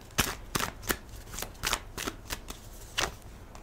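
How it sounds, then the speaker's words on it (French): Tarot cards being shuffled and drawn: a series of crisp, close riffling and snapping bursts at an uneven rhythm, with no voices. "Je voulais prendre une dernière carte."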